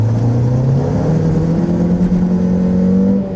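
A car pulls away hard from a standing start, its engine note climbing steadily in pitch as it revs through the gear, loud and close throughout with no talking.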